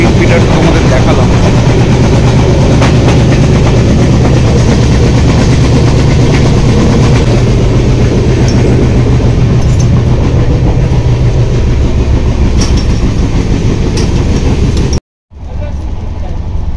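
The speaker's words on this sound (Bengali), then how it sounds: "এখন অবধি ট্রেন কিন্তু ভালো স্পিডে যাচ্ছে, প্রায় 130-এর কাছাকাছি।" The Puri–Shalimar Dhauli Express (12822) runs at high speed, close to 130 km/h, with a loud continuous rumble and rattle of carriages and a faint rhythmic clatter, ending in a sudden brief cut.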